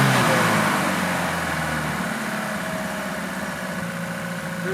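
A Lada Niva engine with a running problem idles steadily up close at about 1,500 rpm with the choke off, a low rumbling hum with a slight rough pulse, with no talking.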